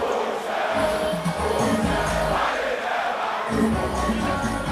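A dense concert crowd roars and cheers as the performer takes the stage, a loud, continuous wall of shouting voices with surging peaks.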